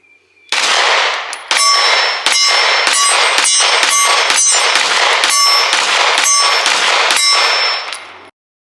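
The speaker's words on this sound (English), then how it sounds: "let's shoot a few rounds through this real quick" Heckler & Koch VP9A1 K pistol with a factory red dot fired at a range, about a dozen loud, sharp close shots in a quick, fairly even string, each with a ringing metallic tail, and no voices.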